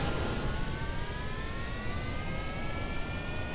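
Steady, loud jet-engine roar from an aircraft at half throttle in Kerbal Space Program, a dense broadband rush with thin whining tones slowly climbing in pitch throughout, no voices over it.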